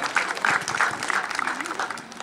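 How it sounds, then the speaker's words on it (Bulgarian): Applause from an audience at a football club's official team presentation for Maritsa 1921 Plovdiv, greeting a newly introduced player; steady clapping that rises and falls with a voice over a loudspeaker. "Аплодисменти за Димитър Грабчев."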